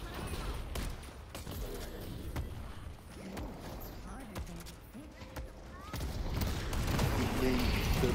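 Rapid gunfire crackles in the video game Deadlock, with bursts of shots and impacts mixed into busy game effects while players talk over the action.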